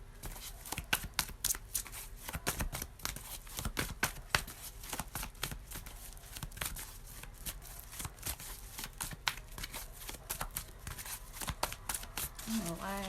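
Repeated crisp riffling and flicking of a card deck being shuffled, fairly close and continuous, with faint voice-like sound at the end.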